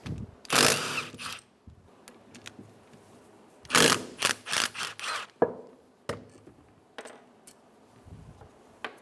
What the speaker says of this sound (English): Remove the 12mm caliper bolts.